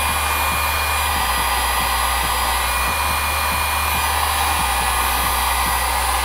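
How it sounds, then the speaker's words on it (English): Heat gun shrinking heat shrink tubing while waterproofing model aircraft electronics, a loud, steady blowing whoosh with a low hum that shifts slightly as the gun is fanned back and forth. "All right, so we're going to go and heat shrink that first."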